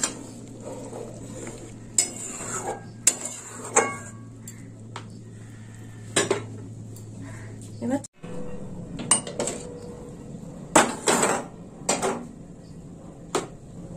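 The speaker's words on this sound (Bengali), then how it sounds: "ভেজে রাখা বড়ি দিয়ে দিলাম, আর বড়িটাও এর সঙ্গে ফুটবে" Fried lentil dumplings (bori) dropped into a pot of boiling curry, with a series of clinks and scrapes of a utensil against the pot, soft sizzling and bubbling, and brief pauses between the sharper knocks.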